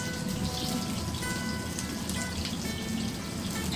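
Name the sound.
onions and fenugreek seeds sauteing in a pan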